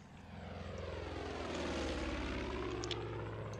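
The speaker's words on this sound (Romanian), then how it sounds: "Uite un avion." A propeller airplane in the video game Far Cry 5 drones past, a steady, fairly loud engine roar that swells gradually and holds for several seconds without speech.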